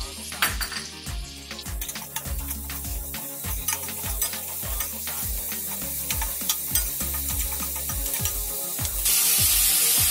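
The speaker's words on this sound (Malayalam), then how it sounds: "ഇനി നമുക്ക് അരിഞ്ഞു വെച്ച സവാള ചേർക്കാം" Chopped onions for Kerala chicken mappas fry in a pot with a steady sizzle, while a utensil repeatedly scrapes and clanks against the metal in an uneven stirring rhythm.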